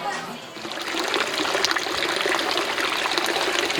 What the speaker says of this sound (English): People say this is the 4 Lions fountain.